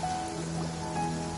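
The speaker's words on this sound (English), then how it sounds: "Oh, I don't like the rain." Rain falling steadily on surfaces in the video game Genshin Impact, a soft continuous patter with a faint tonal hum beneath it, no talking.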